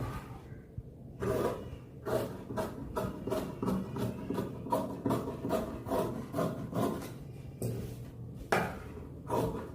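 Scissors snip and rub through jacket fabric laid on a cutting table, a steady run of close, rhythmic crunching cuts with brief pauses.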